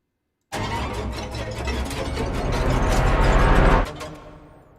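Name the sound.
riser sound effect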